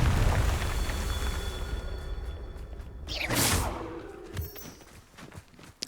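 A Confringo fire spell cast in Hogwarts Legacy bursts out midway as a loud, rushing whoosh with a fiery roar, over steady background game rumble and scattered small effects.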